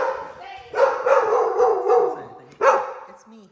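A dog barks a few times close by, with a gruff outburst near the start and another sharp bark toward the end, mixed with vocal noise during a consultation about a dog with joint trouble in his right leg.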